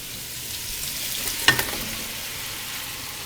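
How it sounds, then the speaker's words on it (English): Sliced zucchini tumbling into a hot pan of cooked onions and garlic, giving one short burst of sizzle over a steady low frying hiss, with no voices. "So now we're going to dump in the zucchini."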